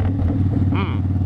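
A Victory Vegas motorcycle rumbles along the road at a steady low engine drone, close and fairly loud, while a rider's voice talks briefly over it.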